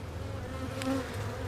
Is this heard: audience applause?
no